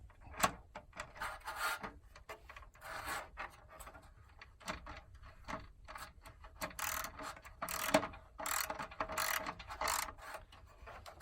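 A ratchet tightens nuts on a rotary vent, giving a long run of close, fast clicking bursts separated by brief pauses, with faint rubbing and handling between strokes.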